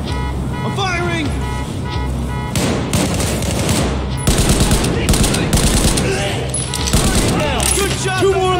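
Battlefield 4 campaign firefight in Baku: sustained bursts of machine-gun fire and scattered shots, loud and continuous throughout, with shouted voices over the gunfire.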